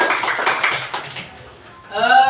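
A classroom of young primary pupils claps for a group, with scattered, uneven clapping that fades midway before a voice speaks at the end.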